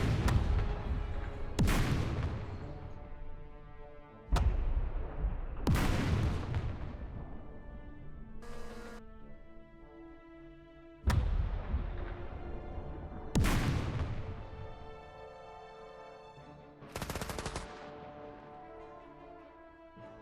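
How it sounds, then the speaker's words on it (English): Repeated heavy gunfire and booming shots in Second Front, a turn-based WW2 strategy video game, with about six loud reports spaced a few seconds apart, each ringing out in a long decaying tail, no talking. "Let's fire at these guys."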